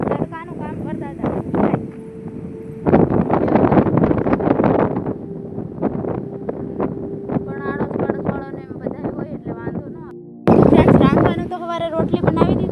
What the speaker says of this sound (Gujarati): પવન ઘણો આવે ને